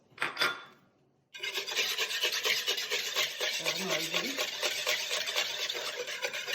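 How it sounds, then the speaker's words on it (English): Milk and two eggs being whisked together in a bowl, a brisk, continuous scraping and rattling of the whisk that starts after a brief clatter and then runs steadily and close. "And then I'll whisk that together with 2 eggs."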